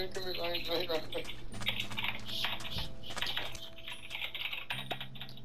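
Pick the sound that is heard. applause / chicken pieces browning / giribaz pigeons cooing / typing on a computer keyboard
typing on a computer keyboard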